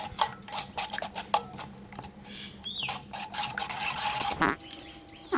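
Ground paste being mixed into milk in a bowl, a quick run of soft, irregular scraping and clicking strokes from a spoon, close by with no voices.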